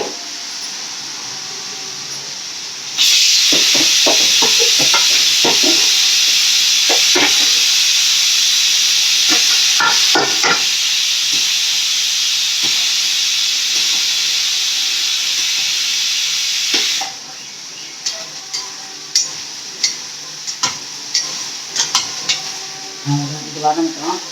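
Vegetables sauté in a pan with chili powder and salt for a Sunday vegetarian meal, a loud steady sizzle and hiss for most of the stretch, broken by spoon scrapes and stirring clatter, then dropping away to scattered taps and stirs.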